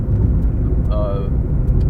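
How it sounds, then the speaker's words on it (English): A noisy car interior while driving, with a steady low, loud road rumble throughout and a brief higher tonal whine partway through. "I have a noisy car"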